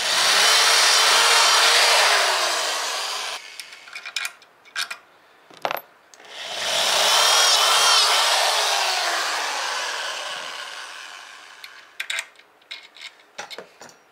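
A power drill bores holes for a wire rod holder being fitted to a Nucanoe kayak, two loud sustained whining runs that slowly fall in pitch, separated by clicks and handling clatter.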